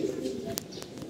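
Pigeons give soft, close coos and a couple of short chirps over low background noise.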